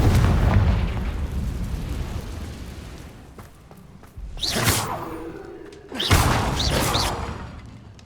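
Confringo fire spell blasts in the game Hogwarts Legacy, with two sharp explosive bursts and whooshes a few seconds apart over a rumbling low background, loud and close.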